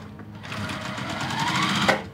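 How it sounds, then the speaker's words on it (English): A sewing machine stitches background fabric pieces onto the edges of a jelly roll strip, running steadily and close for about two seconds with no talk over it. "We're gonna sew both of our background fabric pieces to the edges of our strip."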